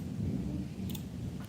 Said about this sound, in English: do you hear the thunderstorms?